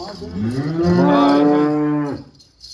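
A calf or cow at a cattle sale in Amritsar, Punjab gives one loud, close, drawn-out moo rising and then holding steady for about a second before tailing off.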